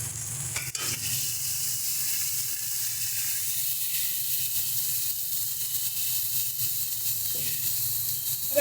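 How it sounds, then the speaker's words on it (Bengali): Ground spices frying in a hot pan give off a loud, steady sizzle and hiss throughout, with a few brief stirring scrapes near the start, up close with no talking. "ভালো করে সমস্ত মশলাগুলোকে ভেজে নিতে হবে।"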